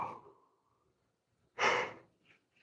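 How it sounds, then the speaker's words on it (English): A single person's yawn rises into a loud breathy exhale in the middle, preceded by a faint breathy sound and followed by a brief soft breath, with no talk. "I don't know why I'm overly yawning this morning"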